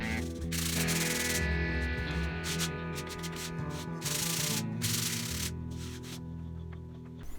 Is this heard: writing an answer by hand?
no